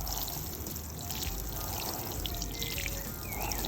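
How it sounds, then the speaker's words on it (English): Water pours steadily over beetroot seeds freshly sown in a container, a close, continuous splashing trickle lasting a few seconds with no talking. "Now what I will do, I will just water them"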